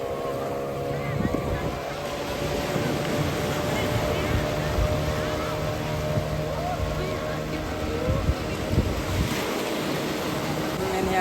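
Sea waves washing ashore at Diu beach, a broad continuous surge of surf with wind buffeting the microphone and a faint engine hum, voices murmuring in the background.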